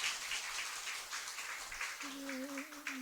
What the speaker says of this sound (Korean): 우리 박수해 주시기 바랍니다